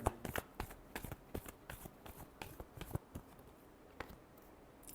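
Tarot cards are shuffled by hand in a series of quick, crisp riffling bursts and soft slaps, close and fairly quiet, with no talking.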